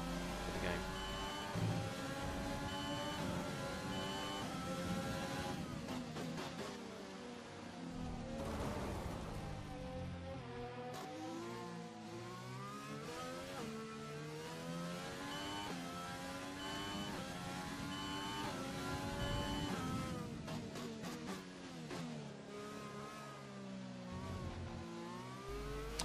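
Race car engine in the F1 2020 video game revs up and down through gear changes for the whole stretch, a continuous whining drone with rising and falling sweeps, fairly faint.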